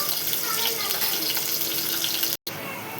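Spices and ginger frying in a pan for mutton liver curry, a constant dense sizzle that holds steady, drops out for a brief moment, then resumes slightly quieter.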